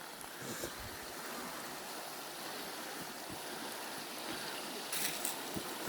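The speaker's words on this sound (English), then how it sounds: "Hear the babbling burn we're approaching." A small babbling burn, a shallow stream trickling and splashing in a fern-lined garden, continuous soft watery hiss heard faintly from nearby.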